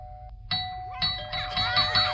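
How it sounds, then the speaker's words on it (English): A doorbell chimes at the front door of a house, a clear ding-dong tone followed by several rapid repeated rings, loud and close over a low background rumble. "He's going ham on the hold doorbell."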